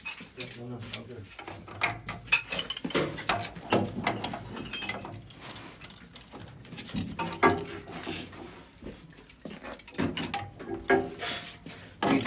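A wrench tightens a gas valve fitting on a Burnham Independence gas steam boiler during an oil-to-gas conversion, giving a steady run of close metallic clicks, ratcheting and clanks.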